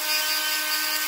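A grinder works down the raised rim of a metal washer for a trommel drive motor mount, a steady, close, high-pitched whine that holds constant and loud throughout with no talk.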